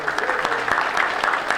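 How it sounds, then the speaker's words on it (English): Brief applause from a conference audience at a Navy industry event, a short burst of close, fairly loud hand clapping with distinct individual claps and no voices. "I think that's worth a round of applause."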